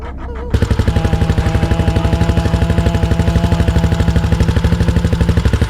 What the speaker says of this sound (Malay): tiba sebuah motor lalu